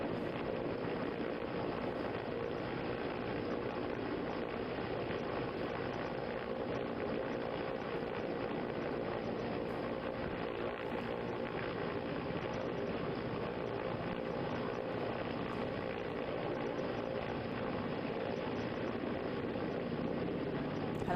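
An air force helicopter hovers during a river rescue of two people stranded on a wall near an under-construction dam on the Tawi river, its rotor and engine a steady, fairly distant drone.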